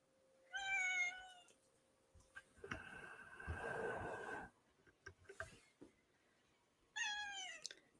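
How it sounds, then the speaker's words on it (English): A house cat meows several times close to the microphone, in drawn-out rising and falling calls at the start and again at the end, with shuffling household noise in between. "You gonna meow into the mic?"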